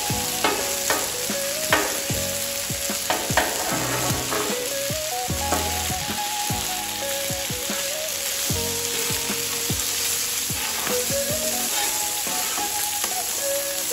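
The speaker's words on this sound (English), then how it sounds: "Bacon cooking up pretty" Bacon sizzles steadily on a Blackstone flat-top griddle, a continuous crackling fry broken by occasional sharper pops and scraping, close and loud with no talking over it.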